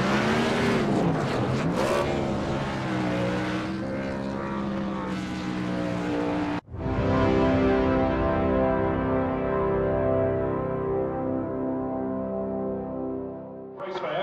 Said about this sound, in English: He's going to throw it into the grass here and do some donuts in the Daytona International Speedway infield.